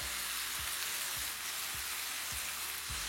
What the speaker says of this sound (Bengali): 1 কেজি মাছের জন্য আমি এখানে নিয়েছি 250 গ্রাম পেঁয়াজ, যেটাকে আমি ততক্ষণ ফ্রাই করব যতক্ষণ এটা একদম ব্রাউন হয়ে আসছে